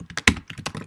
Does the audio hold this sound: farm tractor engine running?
no